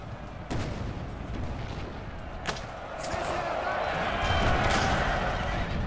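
Artillery fire in Napoleon: Total War, several sharp booms and thuds over a dense rumbling battle din, a few distinct impacts standing out amid continuous noise, with talk mixed in.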